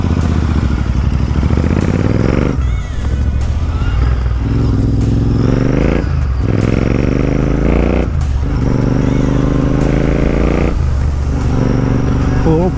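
A Royal Enfield Continental GT 650 engine revving hard during a road ride, loud and close, rising through repeated gear pulls with brief dips between shifts, with faint talk now and then.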